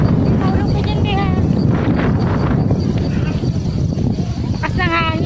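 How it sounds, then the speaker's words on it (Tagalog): Strong wind on a mountain peak in the evening buffets the microphone with a constant low roar, while voices sound faintly through it. "Lakas ng hangin."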